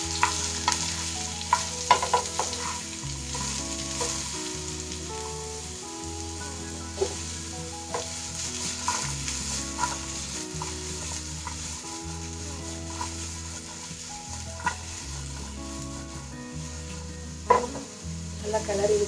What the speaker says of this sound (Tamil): இந்த பப்பாயாவை கொடுத்து விடுறேன். நல்லா கிளறி விட்டுக்கணும்.